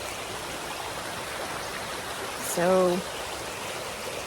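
A stream near an Appalachian Trail campsite flows with a steady, soft rushing hiss, fairly faint and unbroken, as someone briefly speaks a single word partway through.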